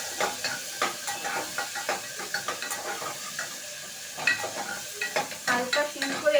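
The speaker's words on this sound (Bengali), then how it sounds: "দিয়ে দেবো পেঁয়াজ। পেঁয়াজটা হালকা ভাজবো, বেশি লাল করব না, যাতে মাংসের সাথে গলে যায়" Onions lightly frying in oil for a meat dish: a soft close sizzle broken by a rhythmic series of stirring scrapes and clacks of a spatula against the pan, growing busier toward the end.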